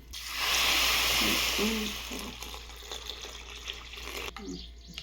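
Water pours and splashes into a bowl as a cup of moong dal lentils is washed before soaking, a brief gushing rush that fades into quieter swishing.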